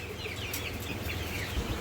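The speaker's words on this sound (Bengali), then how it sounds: "এই যে এখানে বাইরের কিছু মুরগির বাচ্চা আছে।" Chickens and chicks on a poultry farm cluck and peep in a busy, continuous chorus, close and steady with no speech.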